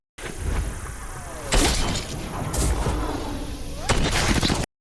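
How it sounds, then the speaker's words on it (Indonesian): Sharp bursts of gunfire crack out in several loud volleys against a noisy, echoing background. "Sisanya melepaskan tembakan dan mengubah rumah itu menjadi zona perang"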